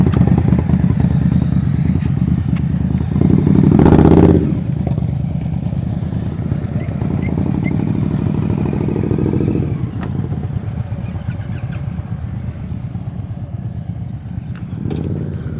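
A heavy motorcycle ridden at slow speed during a riding-skills practice session rumbles steadily and close throughout, with a brief louder clattering burst near the start and a slight rise in engine note later on.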